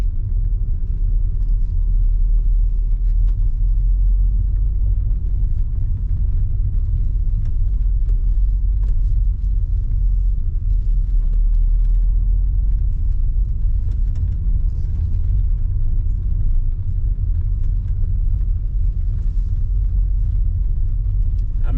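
A VW Caravelle T3 2.6 van drives slowly around a parking lot, heard from inside as a continuous deep engine rumble and road drone, steady and loud throughout.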